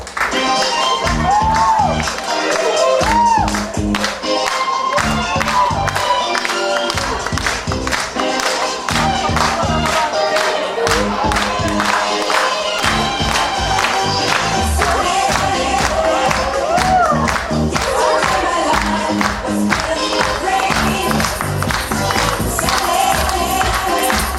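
Wedding guests at a Lviv celebration applaud and cheer for a dancer showing off 80s disco moves, a lively crowd roar with steady clapping over loud music that runs throughout.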